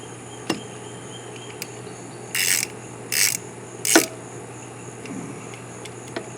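Parts being tightened during a repair of a Yamaha starter relay: a few quick ratcheting bursts in close succession, separated by faint ticks and clicks, near and without speech.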